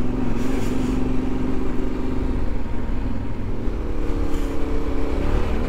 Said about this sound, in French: Un petit coup de gaz pour faire passer l'avant sur les rigoles.